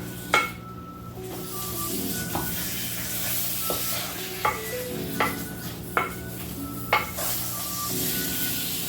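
Earth Balance margarine and chocolate stirred together in a pan as they melt, with a spoon scraping and repeatedly clinking against the metal in an uneven rhythm. Close and fairly loud, with no talking.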